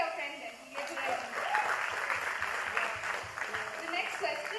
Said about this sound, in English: Come on, guys, you can clap for your friend then.